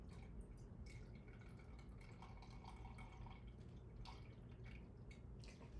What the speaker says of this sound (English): Can you see the water coming out?